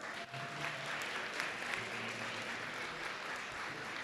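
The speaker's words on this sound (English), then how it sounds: "How did that feel? Show by round of applause." A round of applause from an audience at a school safety forum, steady moderate clapping from a seated crowd throughout, with no talk over it.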